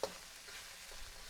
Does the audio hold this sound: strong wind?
no